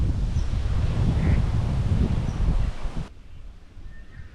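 Strong wind blowing outdoors beside water at a carp fishing spot, a loud rough roar buffeting the microphone that drops abruptly to a softer gusty rush near the end.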